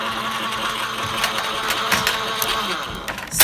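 A Gemini die-cutting machine runs with a steady mechanical hum and rattling clicks while pressing dies through layered fabric, close and continuous with a few sharper knocks.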